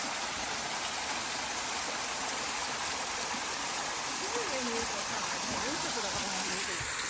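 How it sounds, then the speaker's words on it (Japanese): The Jihi waterfall on Mount Hōkyō in Ibaraki sends up a steady, dense rush of falling water that fills the space evenly, with hikers' voices faintly beneath it. "慈悲の滝。"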